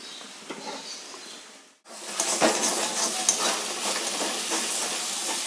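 Lote fish stirred and fried in a wok with lemon juice, cooking in its own released water: a steady sizzling hiss with scraping stir strokes, briefly cut off near the start and then loud and continuous.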